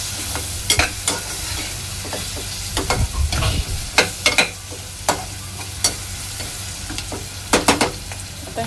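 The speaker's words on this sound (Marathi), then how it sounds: "दोन ते 3 मिनिटांनंतर कांदा आपला चांगला ब्राऊन होत आलेला आहे" Onion frying until brown for prawn pulao, a steady sizzle in oil with repeated sharp scraping strokes of a spoon stirring in the pan, close and clear with no talking.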